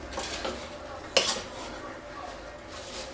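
Spoon stirring fava bean sauce with tomato in a cooking pot on medium heat, giving a soft scraping stir and one sharp metallic clink against the pot, close up over low background noise.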